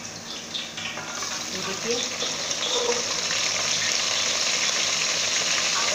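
Steamed chicken pieces frying over high heat in a pan for green chicken pulao, a steady broadband sizzle running throughout, close and fairly loud, with someone speaking briefly over it.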